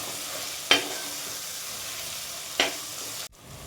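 Cashew and green chili paste stirred into cooked tomatoes in a pot, a soft low sizzle with two sharp spoon clinks against the pan, then a sudden cut to quieter sound.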